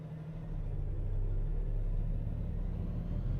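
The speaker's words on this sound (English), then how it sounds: "I think this is a Cummins ISX, 760 horsepower. It has the that doot sound, doot doot sound" A Kenworth K200 truck with a Cummins ISX engine in American Truck Simulator gives a deep, steady engine rumble that swells slightly after a moment and then holds as a low, even drone.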